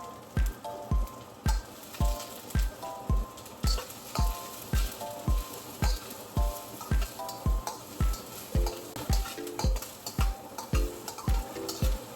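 Onion frying in a pan for pancit bihon, a steady sizzle under a regular rhythm of loud utensil knocks and scrapes against the pan, roughly twice a second, close and without talk.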